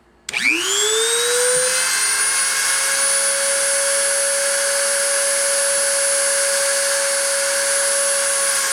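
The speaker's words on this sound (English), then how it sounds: "So without further ado, I'm going to start the spindle and start the deposition." A machining spindle starts up and quickly ramps to a steady 30,000 RPM whine for deposition, with a rising pitch in the first moments and then a loud, constant high tone that carries on with no talk.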